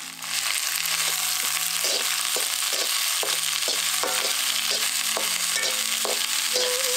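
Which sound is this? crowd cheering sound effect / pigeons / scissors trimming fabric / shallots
shallots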